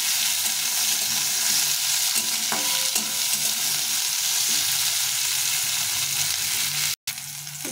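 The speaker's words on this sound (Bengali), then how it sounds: "তেলটা গরম হয়ে গেছে, এখন আমি করলাগুলো ভেজে নেব।" Bitter gourd (karela) pieces fry in hot oil in a pan, a steady, dense sizzle and crackle that fills the whole stretch, close and alone, with a brief stir or clatter near the end.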